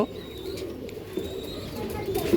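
Pigeons murmur with soft cooing in a pigeon loft in the morning, low and steady at moderate distance, with someone talking over them.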